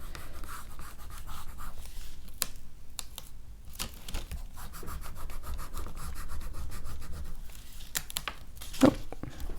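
Scratchy rubbing from the end of a biro pen worked over a junk journal page, a steady close run of fine scraping strokes with brief pauses and a sharper tap near the end.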